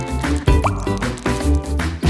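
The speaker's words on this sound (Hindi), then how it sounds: "पानी अच्छे से डालो," Water poured onto soil over a newly planted seed, with short liquid splashes and drips in close bursts, separated by brief pauses.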